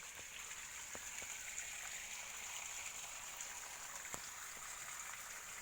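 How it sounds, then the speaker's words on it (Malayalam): Water spraying from a hose onto a coconut palm in a home garden in the morning, a faint, steady hiss with a few soft drips and no talking. "ഇങ്ങനെ വെള്ളം നനയ്ക്കുമ്പോൾ."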